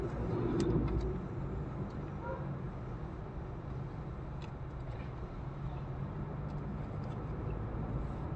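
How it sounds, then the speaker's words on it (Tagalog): Cars roll past steadily on a roadside, a constant close wash of tyre and engine noise with a heavier vehicle swelling by near the start. "Maraming auto, Nay."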